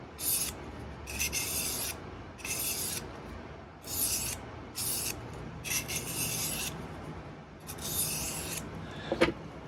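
A cheap $10 thin, soft steel knife is sharpened with quick passes, giving about six rasping strokes in an uneven rhythm, each a close, bright scrape separated by short pauses, followed by a faint tap at the end.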